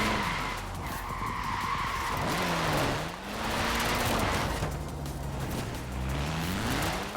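A 1968 Abarth 595 drifts up and down an airstrip in Forza Horizon 4, its engine droning steadily with sustained tire skidding and squealing throughout and no voices.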